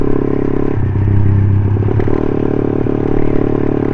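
A Suzuki Satria FU 150 motorcycle with a freshly rebuilt engine revs up close, a rising roar held for about a second and a half before settling back to a steady, slightly clattery idle.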